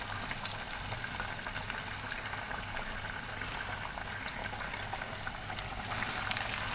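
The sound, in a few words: chicken cheese pocket patties frying in a pan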